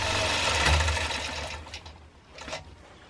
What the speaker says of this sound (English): And then now it should do jump stitches back across the top.